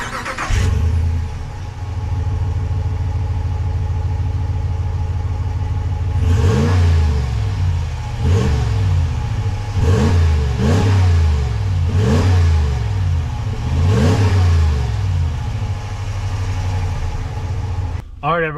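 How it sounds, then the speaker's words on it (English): The exhaust of a 2022 Ram 1500 Big Horn pickup idles steadily, then revs sharply about six times in a regular rhythm, each rise falling back to idle, loud and close, with no talking. "let's give you guys an exhaust test,"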